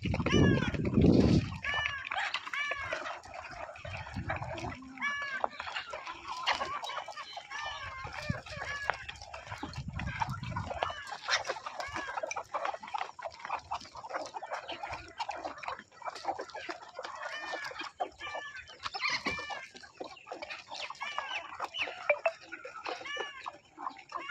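Desi country chickens clucking and a rooster crowing at a morning feeding on a poultry farm, with dense overlapping calls across the whole stretch and someone speaking close by in places.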